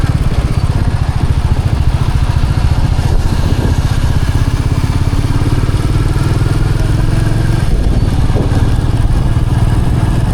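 A Royal Enfield Meteor 350 motorcycle cruises at night, its single-cylinder engine thumping in a steady, loud, continuous low drone with wind noise throughout and a faint rattle of vibration.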